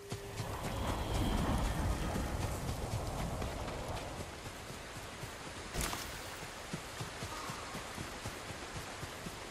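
Horses' hooves clip-clop in a video game, a rapid run of close, rhythmic hoofbeats over a soft noisy bed, with a single sharp crack partway through before the trotting carries on.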